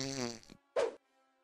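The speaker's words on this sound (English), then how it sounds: "Why would you fart right at that moment?" Cartoon fart: a buzzy, tonal raspberry-like blast tapering off, then a short pause and a second, shorter and louder burst, both close and dry.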